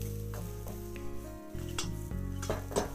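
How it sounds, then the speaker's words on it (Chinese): Scallions fried in a little oil in a wok, with a soft steady sizzle and occasional light clinks of a spatula against the pan, no talking. "咱们把大葱也先煎炒一下"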